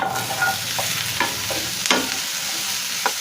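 Boiled plantain stem fries with golden onions in a pan, a steady loud sizzle broken by several scraping stirs and clinks of a spoon.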